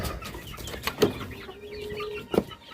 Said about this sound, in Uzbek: jozibador Feniks jo'jalarimiz mana bularning ko'rinishi